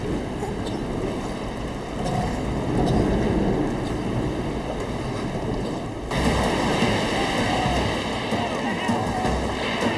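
Loud, continuous roar of heavy surf and wind, with surging waves swelling and breaking without pause.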